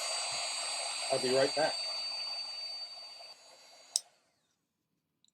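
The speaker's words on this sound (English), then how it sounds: "And grab my heat gun" A heat gun warming embossing powder gives a steady, loud blowing whir that runs for several seconds and then cuts off abruptly. A person speaks briefly over it.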